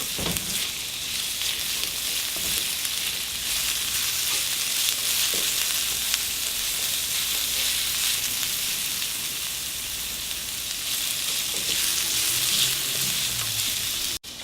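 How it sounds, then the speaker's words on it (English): Broccoli fries in a hot pan with a steady, loud sizzle that holds evenly throughout, cutting off abruptly at the very end; no voices. "Now you want to add the broccoli first because obviously it takes a longer time to cook than corn."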